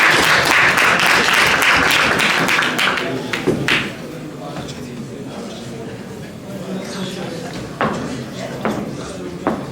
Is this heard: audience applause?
yes